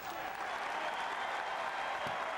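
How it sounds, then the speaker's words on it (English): Loud, dense applause from fans giving a standing ovation for Dale Brown, a steady unbroken roar of clapping across the whole moment with a faint crowd murmur underneath. "the fans poured out their love for Dale Brown with a standing ovation, loud applause"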